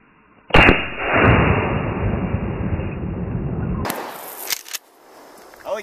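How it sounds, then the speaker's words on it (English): A single loud, close blast from a 12 gauge Mossberg Maverick shotgun fired at full pop cans, followed by a long decaying echo and some faint clatter afterward. "Alright, so I'm going to shoot my shotgun now, and we're going to use pop cans, full pop cans as the target."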